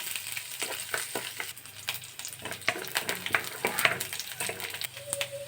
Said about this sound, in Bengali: এখন আমি বাদাম আর কিশমিশটা ভেজে নেব